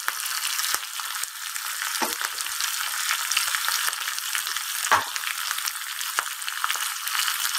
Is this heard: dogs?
no